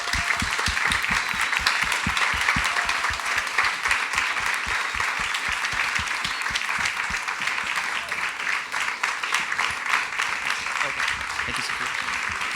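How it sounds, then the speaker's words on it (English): An audience at Filmfest München 2019 applauds for Riley Stearns and Jesse Eisenberg, dense continuous clapping from many hands, loud and steady throughout with faint voices mixed in. "give a big and warm applause to Riley Stearns and Jesse Eisenberg"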